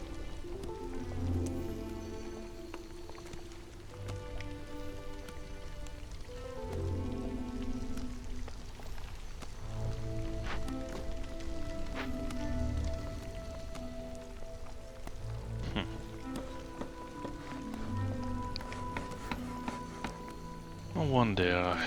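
Storm-season rain in the video game Against the Storm keeps up a steady hiss under layered game music, while someone talks over it throughout.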